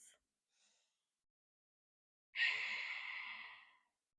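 A single long, audible Ujjayi yoga exhale, a throaty, hissing breath close to the ear, preceded by faint softer breaths and quiet.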